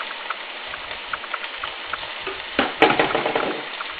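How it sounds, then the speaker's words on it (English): Cream of wheat toasting dry in a hot pot for upma, giving a soft, steady crackle with light scraping stir strokes and a brief louder clatter near the end. "the pot is hot enough to keep toasting it a little bit"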